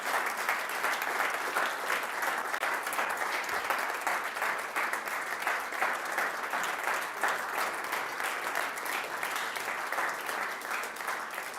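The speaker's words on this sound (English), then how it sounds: "One more round of applause to all the prize donators, all the sponsors and partner organisations" Sustained applause from an audience at the finals of a food-themed hackathon, a dense, steady wash of clapping that fills the whole stretch without letup.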